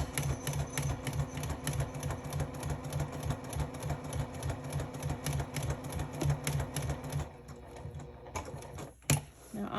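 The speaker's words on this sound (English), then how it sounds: "And just keep sewing until you get to the very end." Home sewing machine stitching fabric while closing a zipper, a steady rapid mechanical chatter running continuously for most of the stretch before stopping near the end with a brief click.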